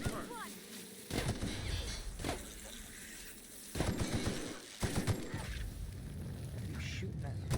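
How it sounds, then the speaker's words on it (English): Gunfire in The Outer Worlds video game comes in several loud bursts of rapid shots separated by quieter stretches of game ambience. "What are you shooting at?"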